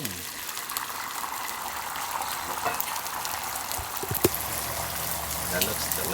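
Cooking oil sizzles and crackles steadily in a hot pan for breakfast egg-and-cheese sandwiches in a New York kitchen, a constant fairly loud frying hiss with a few pops.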